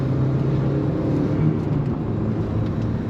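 A 2003 Audi TT 225 Quattro is driven hard through laps, heard as a steady, loud engine drone with road and wind noise, a continuous rumble from inside the car without pause.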